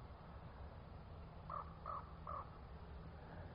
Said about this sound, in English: a crow calling.